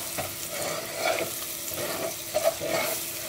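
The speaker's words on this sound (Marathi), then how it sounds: "आमी हो मसाला हो मिक्स करूया." Spicy masala fries in oil in a pan with a steady soft sizzle, and a spoon scrapes through it now and then as it is stirred.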